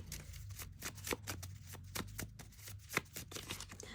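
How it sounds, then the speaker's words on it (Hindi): Oracle cards shuffled by hand in quick, crisp riffles and slaps, a steady run of sharp flicking bursts close to the microphone with no talking. "Let's pull some cards."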